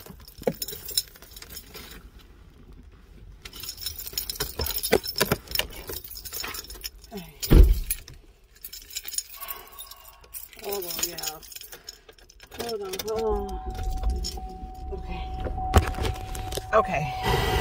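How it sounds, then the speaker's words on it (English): Keys jangle and clink in the hand while someone gets into a car, followed by door and seat handling sounds, a brief thump and cabin rustling, with someone speaking intermittently throughout. "Let me get in the car."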